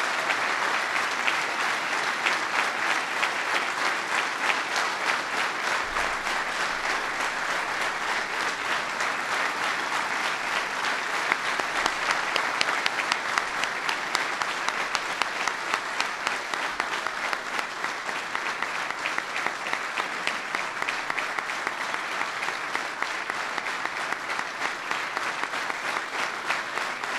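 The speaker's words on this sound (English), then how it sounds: "Please give Leroy a big applause" Sustained applause from a large audience at a Medal of Honor presentation ceremony, dense and steady clapping filling the room for nearly half a minute with no talk over it.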